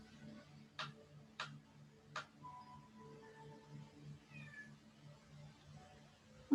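A pet cat meows several times to be let in, moderately near, its cries mixed with a few sharp ticking clicks and a steady low hum, with no talking.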